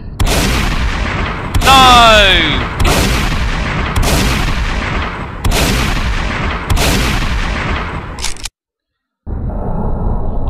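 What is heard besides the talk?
shotgun firing in a zombie video game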